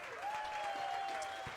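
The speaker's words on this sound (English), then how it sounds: "how about a round of applause tonight for Showtime?" Short burst of studio audience applause during a live football show, steady clapping with a sustained tone running underneath.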